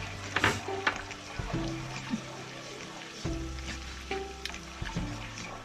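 Yogurt being stirred into chicken salan masala frying in a pan, a low sizzle with intermittent scraping spoon strokes and small clatters, close and fairly quiet, with no talking.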